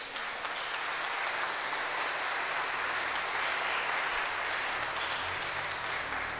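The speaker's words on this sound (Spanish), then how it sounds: "esa es una enorme bendición y eso merece un aplauso" A church congregation applauds during a Thanksgiving service, many hands clapping together in a dense, even wash of sound that holds steady at one level for several seconds without stopping.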